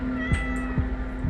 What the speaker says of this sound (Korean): 고양이다.